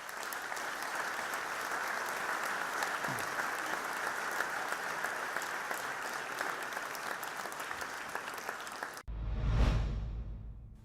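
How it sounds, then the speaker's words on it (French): A crowd applauds steadily and evenly, then the clapping breaks off sharply and a loud whooshing transition sweeps in near the end. "Je crois qu'on peut vous applaudir"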